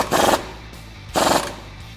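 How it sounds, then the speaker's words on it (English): A power tool tightens the bottom nut with a 15/16 socket while a front leveling kit is fitted to a 2004-2014 Ford F150, heard as two short, loud rattling bursts about a second apart. "let's tighten up the bottom nut here with a 15/16 socket"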